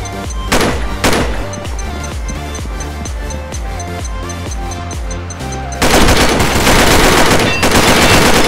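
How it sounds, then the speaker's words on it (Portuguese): Rapid automatic gunfire bursts in a Snow Valley competitive video game match, loud and continuous with dense rattling fire, intensifying into a heavy sustained barrage near the end, with music and game sounds underneath. "Nossa, que rajada!"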